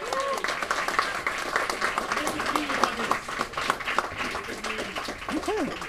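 An audience at the Mind Sports Olympiad claps in a moderate, steady patter of applause lasting several seconds while voices talk over it.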